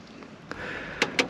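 A Daihatsu Copen door fitted with a used aftermarket GP door striker shuts with a couple of close, solid knocks after a softer clunk, heard alone in a quiet setting.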